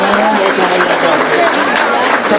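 A hall audience applauds a local volunteer at a Princeville volunteer tribute ceremony, with dense, steady clapping that stays loud and even throughout.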